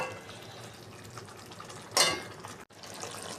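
Water poured into a cooking pot of potatoes, a short splashing pour in the middle of quiet kitchen background, followed by a brief clatter.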